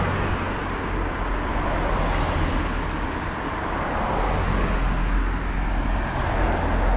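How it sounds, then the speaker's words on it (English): Cars pass by on a road near a roadside stop in the countryside on a motorbike trip, a loud, continuous roadway rumble with traffic swelling and fading as vehicles go past, and no voices. "And there's loads of cars come past that."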